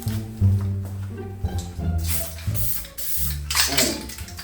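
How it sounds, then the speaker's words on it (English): Aerosol spray can spraying primer onto the body of a 2023 BMW M240i under repair, with skim-coated body filler: two or three sharp, close hissing bursts over a steady low mechanical drone. "Man, that spray is so nice."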